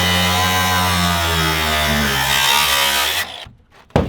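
A power tool cuts into a car's floor pan with a loud, steady droning buzz that holds for about three seconds and then stops abruptly.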